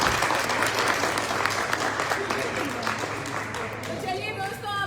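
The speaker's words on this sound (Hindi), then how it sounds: "जोरदार तालियां दुष्यंत को।" An audience bursts into sustained applause, a dense wash of many hands clapping with some crowd noise and voices mixed in, steady throughout.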